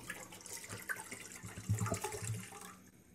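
Water pouring into a cooking pot, one litre for boiling rice for chicken tikka biryani, a steady continuous splashing and gushing stream close by for about three seconds before tapering off.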